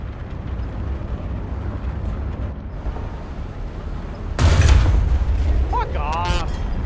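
A bomb detonates in a video game, a sudden loud explosive burst cutting through steady background rumble and gunfire, followed by whistling effects while a player talks.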